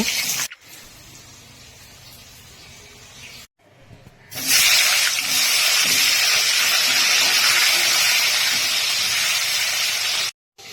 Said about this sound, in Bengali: মাছ তুলে নিয়ে একই তেলে আলু ভেজে নেব